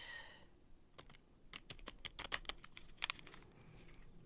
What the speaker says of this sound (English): So I'm going to shuffle it